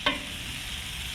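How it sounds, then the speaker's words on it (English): Redfish sizzling over hot coals, a steady close frying hiss with faint crackle and a couple of brief sharper pops at the start and end, no talking. "Get the sizzle back going."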